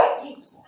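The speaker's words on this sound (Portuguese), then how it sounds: "eu tenho cachorros e os cachorros fazem parte aqui da live também" Dog barks at home during a live stream, one short sharp bark that decays quickly into fainter whimpering yips, fairly close.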